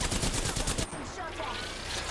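Rapid automatic gunfire bursts in Apex Legends, loud and close, a dense rattling volley of shots lasting under a second that cuts off into a softer ringing tail.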